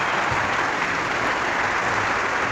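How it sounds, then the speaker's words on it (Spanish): Continuous, dense applause from a church audience at a religious debate on the Word of God, steady and fairly loud with no gaps and no talking. "Aplauso, aplauso."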